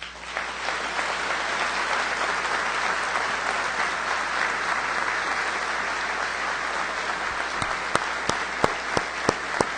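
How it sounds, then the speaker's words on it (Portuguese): A large ceremony audience at the Fiep 70th anniversary breaks into sustained, dense applause that holds steady, then thins out toward the end into a few isolated, crisp claps. "Uma salva de palmas."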